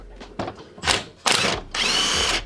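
Impact wrench removing an alternator pulley on a 1UZ engine, several short, loud, close bursts of rattling hammering, the last one running longer.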